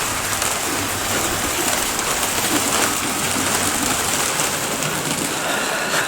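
Heavy rain pours down during Storm Dennis, drumming steadily onto a veranda roof in a dense, continuous wash of sound with no voices.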